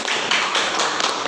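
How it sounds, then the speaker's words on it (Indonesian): Quick, rhythmic hand claps from a teacher in a classroom, a short run of sharp, close claps at a lively pace. "Tepuk tangan buat diri saya sendiri."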